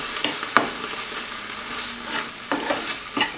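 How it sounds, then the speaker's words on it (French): Lardons frying in a pan alongside a cream and morbier cheese sauce, a steady close sizzle broken by several sharp scrapes and knocks of stirring, with no one talking. "Et je fais revenir en même temps des lardons"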